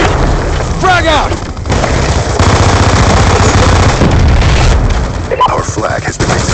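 Gunfire in a first-person shooter video game, with a thrown frag grenade: dense rapid bursts and booming blasts fill the clip loudly, close and continuous, with brief shouted voices mixed in.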